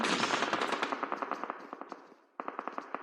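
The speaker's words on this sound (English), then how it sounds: "here they are, under gunfire right now" Rapid bursts of automatic gunfire in PUBG Mobile crackle in dense volleys during a SEA Games esports match, thinning into separate shots, a brief pause, then another rattling burst.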